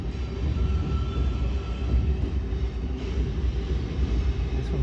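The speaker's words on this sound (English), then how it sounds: "another CSX train." A CSX freight train with four locomotives crossing a bridge in West Virginia, heard from an overlook as a continuous low rumble and roar that holds steady throughout, with no talking.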